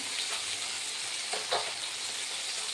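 Steady oily sizzle of fish frying fills the clip, a constant hiss with a couple of brief louder crackles near the middle.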